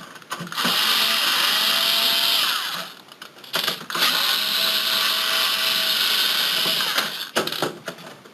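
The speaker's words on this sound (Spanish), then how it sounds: "tendríamos que quitar en total 4 tornillos" A power screwdriver backing screws out of a PlayStation 3 console casing, loud close buzzing runs of a few seconds each, separated by brief clicks and handling noise.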